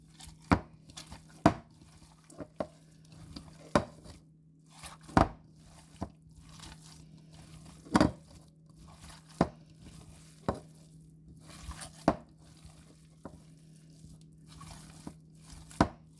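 Ground beef being hand-mixed with St. Elmo's seasoning for burgers, soft squishy kneading with irregular sharp slaps and thumps at close range over a steady low hum.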